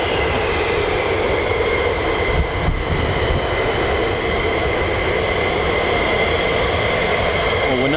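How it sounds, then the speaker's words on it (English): Pratt & Whitney F135 turbofan of an F-35 fighter at RAF Lakenheath, a steady, continuous high-pitched whine with broad rumble underneath, loud and unbroken throughout without any talk. "A little tone, a little higher pitched, constant tone of Pratt & Whitney's masterpiece, the F-135 PW100."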